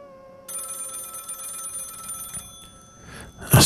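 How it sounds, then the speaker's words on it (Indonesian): A telephone rings at night, a steady electronic ring rising out of near silence after half a second and holding evenly before a loud burst at the very end. "Malam ini, telepon itu kembali berdering."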